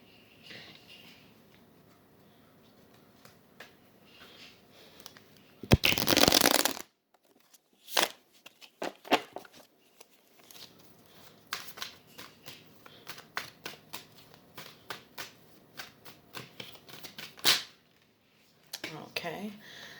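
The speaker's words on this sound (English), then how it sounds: "I'm going to pull one card from my other tarot deck" A tarot card deck is shuffled up close, with a long riffle burst followed by a run of quick, irregular card flicks and taps. A voice talks at times.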